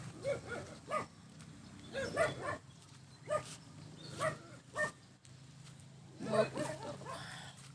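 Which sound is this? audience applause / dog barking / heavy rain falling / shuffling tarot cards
dog barking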